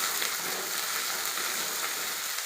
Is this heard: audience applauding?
no